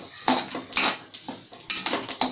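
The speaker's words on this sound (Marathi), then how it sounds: "आता हे 2 मिनिट भाजून घ्यायचं चांगलं खरपूस" Coriander and cumin seeds are stirred as they dry roast in a pan, with close, bright scraping and clinking of a utensil against metal in irregular bursts.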